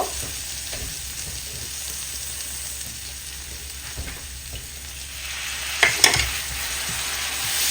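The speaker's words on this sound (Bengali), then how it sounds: "এখন আমি একটু পানি দিয়ে মশলাটাকে কষিয়ে নিব" Spice paste for keema frying with a little added water in a pan, a steady hissing sizzle throughout, with a few louder clinks and scrapes of stirring near the end.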